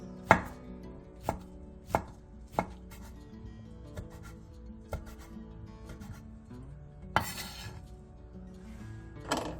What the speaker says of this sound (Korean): 빨간 파프리카 2분의 1개와 노란 파프리카 2분의 1개도 비슷한 두께로 채 썰어주세요.